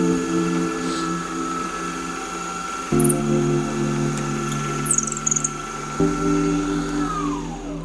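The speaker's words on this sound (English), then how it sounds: "we'll set it down on the milling machine this way up now, and we'll drill right through both sides" A milling machine drills through both sides of a camo Damascus knife's handle, a loud steady motor whine that shifts pitch twice as the load changes, with a few small clicks and rattles midway.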